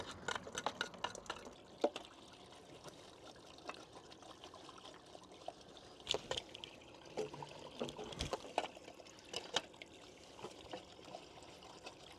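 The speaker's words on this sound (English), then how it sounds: "That will eventually dissolve all the fat, which it has. It's draining quite nice." Hot water trickles and gurgles steadily down a blocked kitchen gully, dissolving fat, with scattered splashes and small clinks, close and moderately loud throughout.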